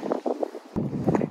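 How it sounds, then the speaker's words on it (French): Outdoor wind gusting past the microphone, with a rumbling buffet that drops out briefly and then returns, with no talk during it. "il y a du vent, je suis totalement décoiffée"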